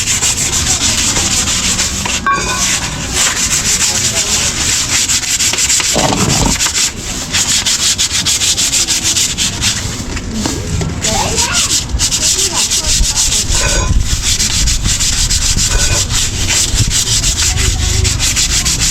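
Steady, continuous rasping of sandpaper rubbing on wood, close and loud, with a brief pause now and then in the strokes.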